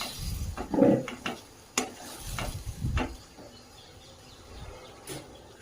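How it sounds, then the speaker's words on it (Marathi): A thick chikoo halwa mixture with ghee is stirred in a pan, giving soft scraping and thick squelching strokes in irregular bursts. Sounds are close but fairly quiet, and the pauses between them are near silent. "तर व्यवस्थित अगदी मिक्स करून हे मिश्रण अगदी थोडंसं थिक होईपर्यंत त्याला हलवत राहायचं"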